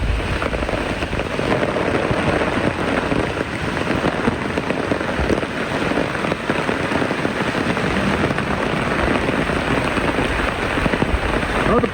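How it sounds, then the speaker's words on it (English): Steady rain falls on a garden, a dense, loud, continuous patter on leaves and surfaces with no talking over it. "Okay, I'm gonna have to seek some shelter because it's raining."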